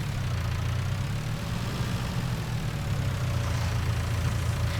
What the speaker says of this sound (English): It's quite impressive actually that such a small single-cylinder petrol engine can do so much.